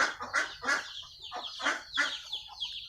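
Several chickens cluck in quick, uneven bursts, fairly close and lively, with no talking.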